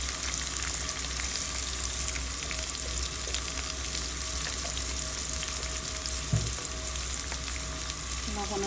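Churi fish frying with chili on a stove, a continuous dense sizzle with light stirring clicks, fairly close and steady throughout.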